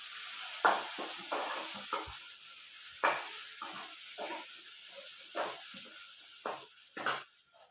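Green chili, garlic and onion sizzle in hot oil for anda bhurji, a constant hiss broken by repeated bursts of stirring and scraping in the pan, close and clear with no talking.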